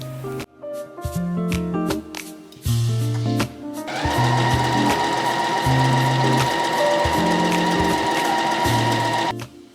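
A sewing machine stitches fabric lining with a 1 centimeter seam allowance, starting in short bursts of whirring stitches, then running in one long steady, loud, rhythmic hum.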